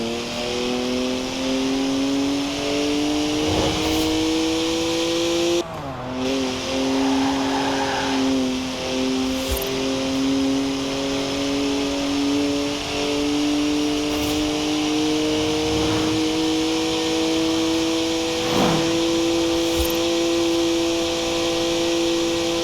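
A BMW 3-litre twin-turbo straight-six with 335 horsepower, driven in Forza Horizon 4, drones steadily and loudly at high revs throughout. The pitch sags at one gear shift and then climbs back, with no talk over it.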